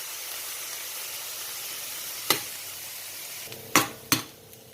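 Bitter gourd fries in a pan for a Palakkad-style tamarind curry, giving a steady soft sizzle. A few sharp scrapes and clacks from a stirring utensil come near the end, with no talking.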